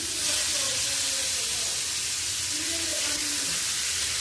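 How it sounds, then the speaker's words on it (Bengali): Fish fries in a pan with a steady, dense hiss and crackle of hot oil that holds at an even loudness throughout, close and continuous, with faint low background sounds beneath. "এখন মাছ হচ্ছে ভাজা শুরু করে দিয়েছি।"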